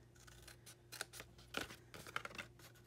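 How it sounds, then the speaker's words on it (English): Scissors snip through stamping paper for a handmade animal treat box, a series of crisp, close cuts in an irregular rhythm with louder strokes toward the middle, with no talking. "I find it just as easy to do it with scissors."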